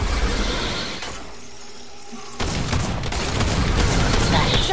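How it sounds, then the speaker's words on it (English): Gunfire erupts in a battle royale video game: a burst of shots opens, a quieter stretch follows, then a dense, loud fusillade of rapid cracks and blasts fills the rest. "Oh, no, I got shot"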